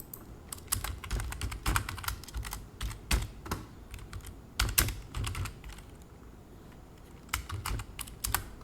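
Code is typed on a computer keyboard in a steady, moderately quiet clatter of keystrokes, with brief flurries and short pauses and no voices.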